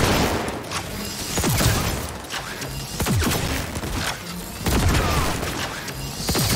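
Gunfire in Cyberpunk 2077, bursts of loud shots and booming impacts in a heavy, rolling firefight, with repeated strong hits spaced about a second apart over constant battle noise.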